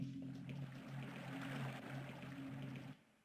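Water pouring and rushing in the video game Overblood, a loud continuous gushing stream with a low droning hum beneath it that cuts off abruptly after about three seconds.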